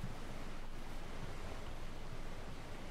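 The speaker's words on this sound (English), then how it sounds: "we are inside a waterfall" Water rushes steadily from inside a waterfall in ARK Survival Evolved, a soft, even roar that stays faint and constant throughout.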